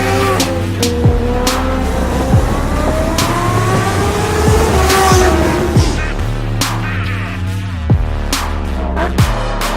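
A Kawasaki Ninja H2 supercharged motorcycle runs on the Budh International Circuit, its engine revving loudly and close with rising and falling pitch and sharp gear-change breaks.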